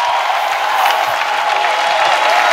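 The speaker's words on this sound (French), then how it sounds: "Let's clap for Jesus." Congregation at a church service clapping together in praise of Jesus, a loud steady wash of many hands with crowd cheering mixed in, continuous throughout.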